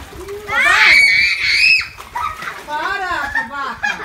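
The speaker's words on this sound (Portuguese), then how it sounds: "sem jogar água no ar" Water splashes in an outdoor swimming pool as children shout and scream nearby, with the splashing mixed under loud excited voices.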